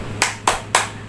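Three sharp, evenly spaced hand claps, loud and close, played as the children's 'tepuk guru' clapping rhythm with nothing else heard.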